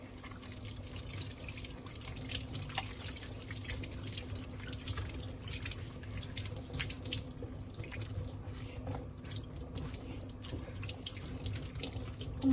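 Running tap water pours steadily into a sink while hands are rinsed after scrubbing, a continuous close splashing hiss with no talk for the whole stretch.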